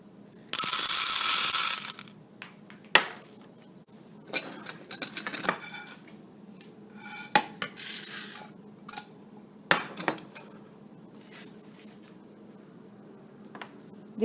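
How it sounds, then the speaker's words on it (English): Dry chana dal roasting in a pan, starting with a loud rushing pour of lentils, then scattered clinks, rattles and scrapes as the dry grains are stirred and shaken against the metal, with no talking. "I'm going to dry roast the chana dal first."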